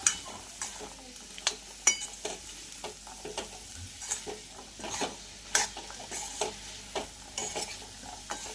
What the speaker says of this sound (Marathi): छानपैकी असं फ्राय करून घेणार आहोत